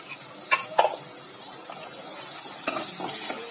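Onions sautéing with ginger garlic paste in a pan for mutton liver fry, a soft, low sizzle broken by a few sharp stirring scrapes of a utensil against the pan.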